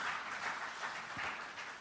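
A church congregation at an Indonesian sermon claps together in praise, a faint, short burst of many hands heard at a distance.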